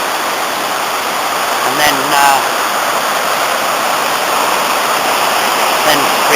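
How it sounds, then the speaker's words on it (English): The river Ysgethin flowing along a riverside path, a steady, loud, close rush of water like a small waterfall, continuous throughout, with a voice speaking briefly over it. "there's the water in the Ysgethin"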